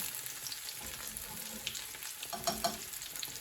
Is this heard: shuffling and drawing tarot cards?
no